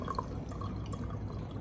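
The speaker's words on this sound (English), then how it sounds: "Pouring that thing makes it look even better. It sounds good too." Liquid is poured into a container during an electrochemistry experiment, a brief, faint trickle with small dripping and splashing sounds, heard alone.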